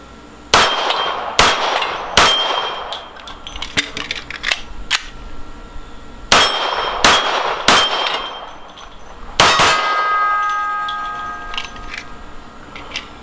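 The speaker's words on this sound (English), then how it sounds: "For a bullseye gun, it works pretty good on the plates." A Smith & Wesson 52-2 pistol fires .38 Special mid-range wadcutters at steel plates on a range. Sharp, loud shots come in irregular bursts, and the struck plates ring out with lingering metallic tones.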